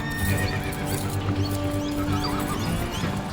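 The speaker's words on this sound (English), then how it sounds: "not only have the horses bolted, they've joined another herd, making them harder to catch." Horses bolted in the Australian outback and mixed into another herd: a close whinny rises over steady clip-clopping hooves, loud and busy throughout.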